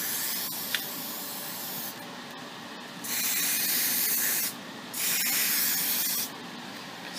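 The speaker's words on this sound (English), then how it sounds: "Already you can see a nice silver finish to this thing, which is the reason why I bought this spray." Silver spray paint hisses from an aerosol can in steady, loud bursts, two long sprays with short pauses between them, close up and with no talking.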